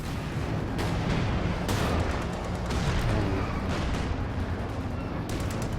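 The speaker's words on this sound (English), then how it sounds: "He's dropped artillery cover." Artillery barrage in the World War II strategy game Company of Heroes 2 during a 2v2 match: repeated loud, heavy booms and blasts landing one after another over a rumbling battlefield, with no talk.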